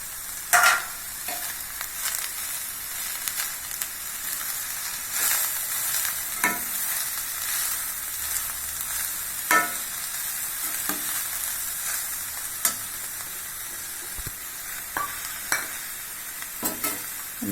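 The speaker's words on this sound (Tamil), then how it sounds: "எல்லாத்தையுமே அப்படியே கொஞ்சம் வதக்கிட்டே இருக்கணும். ஒன்றா போட்டு வதக்க வேண்டியதுங்க." Chopped vegetables with carrot sauté in a hot pan for momos, giving a constant sizzle broken by repeated sharp scrapes and clacks of a utensil stirring them, close and fairly loud.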